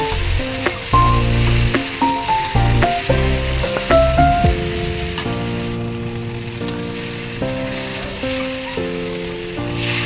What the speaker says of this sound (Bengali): একটু চিনি দেব, আর একটু ধনে গুঁড়ো দিয়ে ভালোভাবে কষিয়ে নেব।